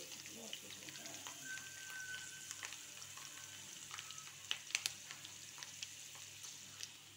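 Chicken frying in a cooking pot with oil, a steady soft sizzle with scattered crackles and pops, fairly quiet and close.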